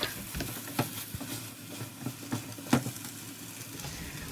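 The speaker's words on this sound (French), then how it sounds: "ajoutez la tomate. Laisse-le cuire et prendre de la couleur" Tomato cooking in a pot with meat for an African dish, with soft stirring scrapes and light clicks over a low steady sizzle, close up and fairly quiet.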